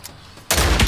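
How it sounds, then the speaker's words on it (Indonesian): Bursts of gunfire from the shooter video game Omega Legends, loud and dense after a quiet start, sounding like a rapid fusillade with no talking. "Di mana tuh tembakan-tembakan?"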